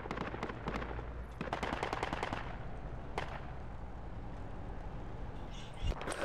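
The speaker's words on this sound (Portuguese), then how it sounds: "tem tiro pra merda pra cima aqui" Gunfire in the military shooter game Project Reality 2 sounds as rapid bursts of automatic fire and sharp single shots, some close and others more distant, crackling irregularly across the whole stretch.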